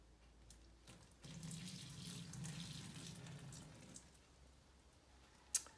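Water poured out of the spout of a heated glass coffee carafe after a swirl, a steady splashing stream lasting about three seconds into a sink, close and moderately loud, ending with a sharp clink.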